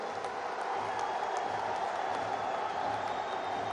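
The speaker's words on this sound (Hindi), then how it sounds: "जोर से तालियों के साथ मेरी इस बात को स्वीकार कीजिए आप" A large crowd applauding loudly at Narendra Modi's speech in Goa, a dense, continuous roar of clapping that holds steady throughout with no break.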